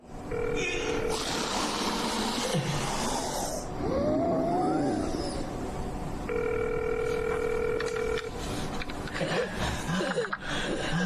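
A steady telephone dial tone sounds in two stretches, amid background commotion and some talking.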